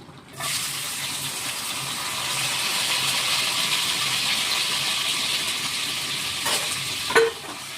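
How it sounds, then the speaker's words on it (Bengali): Rice pours into hot vegetable oil and ghee in a pan for pulao and sizzles with a steady, moderate frying hiss that continues throughout, ending with a brief clatter near the end. "এবার আমি চালটা ঢেলে দিচ্ছি।"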